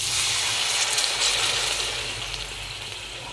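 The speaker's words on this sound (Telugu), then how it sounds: "సో నేనైతే 1 గ్లాస్ వాటర్ యాడ్ చేస్తున్నాను." Steady pouring of water into a pan, a continuous close gushing splash with no voices.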